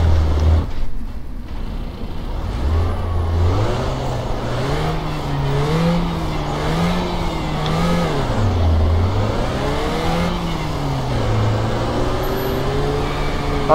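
An old sprint car engine roars steadily through a slide job, its pitch rising and falling in repeated surges as the driver races, loud and continuous with no talk.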